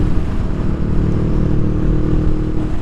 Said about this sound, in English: pretty much all of these bikes have an incredible exhaust sound, and you would never know with the stock exhaust that's on there